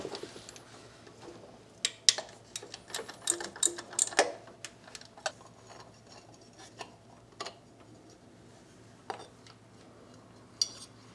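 A ratchet working 10mm fasteners on a 2003 Toyota Camry engine gives quiet, close metallic clicking in irregular bursts, denser early on and then sparse, scattered clicks.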